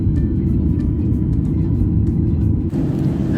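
Airplane cabin just after takeoff from Bengaluru, a loud steady low rumble of engines and airflow that fills the whole clip, with no voices.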